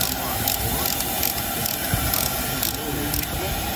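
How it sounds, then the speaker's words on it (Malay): A ratchet wrench loosens the two bolts holding a disc brake caliper to its bracket, producing a steady, close, loud stream of rapid mechanical clicking that runs without a break. "seterusnya kita akan buka dua skru daripada caliper yang pengikat dengan bracket caliper"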